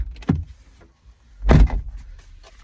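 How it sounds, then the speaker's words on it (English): A car door is opened from inside the vehicle. Two thuds and clunks sound about a second apart, the second one heavier, close by in a quiet cabin. "Okay, I gotta open the door."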